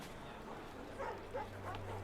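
A dog gives a few short, soft barks and yips on a Paris street, faint and distant, under steady outdoor background noise.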